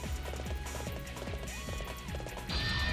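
A horse gallops in the video game Warriors Orochi 3, with rapid rhythmic hoofbeats under a dense mix of battle music and combat clashes that swells near the end.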